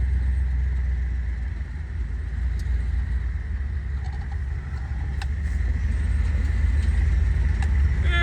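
A 1958 Edsel hardtop drives at low speed below overdrive range, its engine a steady, close low rumble with faint rattles and small knocks over the drone throughout.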